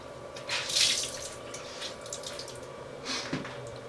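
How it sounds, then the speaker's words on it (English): Tap water runs and splashes in a sink while a washcloth is dampened for rinsing the face, with soft gurgling swells and faint drips, fairly close and quiet. "I'm going to take a little washcloth, I'm going to dampen it, and I'm going to rinse this off."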